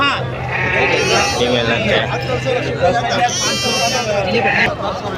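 Several sheep bleat repeatedly, close by, over someone talking and other voices murmuring in the background.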